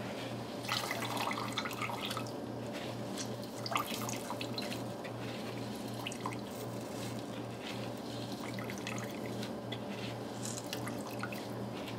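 Rice is washed in water and drained in a kitchen, a faint continuous trickle and dripping with soft sloshing over a low steady hum, quiet throughout.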